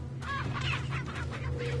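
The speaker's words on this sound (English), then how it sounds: "More than these chickens are already gonna do." Chickens cluck in Resident Evil 4, a few short clucks over a steady low game hum and ambience.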